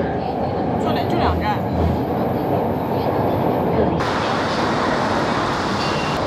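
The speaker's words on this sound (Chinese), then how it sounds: "我第一次知道坐地铁原来可以这么快" A Xiamen metro train runs through an undersea tunnel, producing a loud, steady rumble and rushing roar throughout, heard from inside the carriage.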